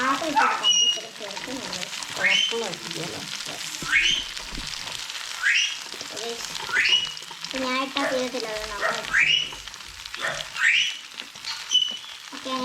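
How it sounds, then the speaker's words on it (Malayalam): Garlic and carrots frying in a pan for fried rice give a steady loud sizzle, with repeated scraping stirs about every one and a half seconds while a person talks over it. "വെളുത്തുള്ളി ഇങ്ങനെ പതഞ്ഞ് വരാൻ തുടങ്ങിയിട്ടുണ്ട് അപ്പോൾ അതൊക്കെ ആകുമ്പോഴത്തേക്കും നമുക്കിനി ക്യാരറ്റ് ഇട്ട് കൊടുക്കണം"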